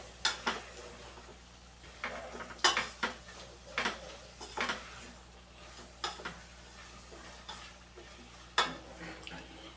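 Eggplant curry is being stirred in a pan, with scattered clinks and scrapes of a spoon against the metal, quiet and irregular, over a faint low hum.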